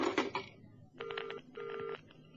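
A telephone line to a train clicks and crackles over an amplifier, then two long electronic ringing tones sound in succession over a thin, hissy amplified background.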